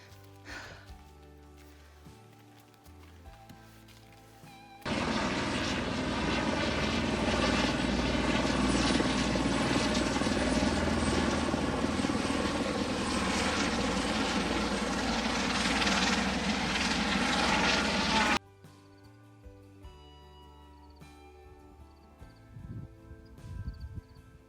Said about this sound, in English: We're standing here looking at the helicopter